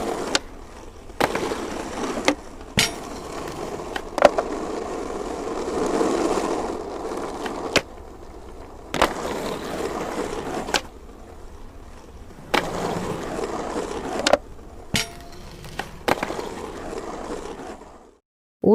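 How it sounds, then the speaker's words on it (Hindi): A skateboard rolls across an indoor floor in short bursts of gritty wheel rumble, broken by sharp clicks and abrupt silences. Moderately close, with no talking. "इस आदमी ने फ्लोर पर स्केटबोर्डिंग करते हुए बहुत सी पिक्स बनाई"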